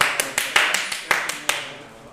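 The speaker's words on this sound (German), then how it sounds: "Drei Leute klatschen" A handful of separate claps from a few people, about seven distinct hand claps in an uneven rhythm, close and fairly crisp, with faint background murmur.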